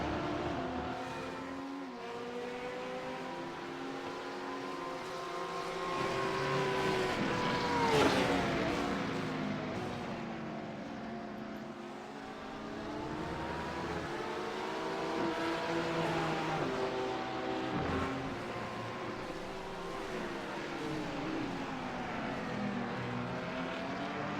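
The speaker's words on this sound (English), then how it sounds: "can he put that Porsche low into the apex" Porsche GT3 race cars at Misano circuit: high-pitched engine notes rise and fall through gear changes, a close pass swelling loudly around the middle, then several cars continuing with overlapping, sweeping revs in a steady racing drone.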